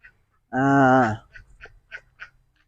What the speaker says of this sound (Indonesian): Ini bebek-bebeknya teman-teman.